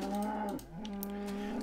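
Cattle mooing in the video game Minecraft: a steady, tonal low moo that dips briefly midway, then resumes and holds to the end, close and fairly loud with no talking.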